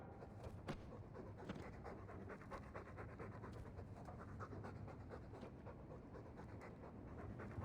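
A dog pants rapidly and steadily in the Dragon Age II video game, quick rhythmic breaths close up and fairly quiet, with no talking over it.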